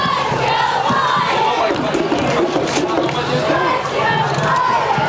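A big visiting crowd at a 1993 high school football game between North Hunterdon and Somerville cheers and shouts in a loud, steady roar of voices. A mascot rouses the fans, and a commentator talks over the noise.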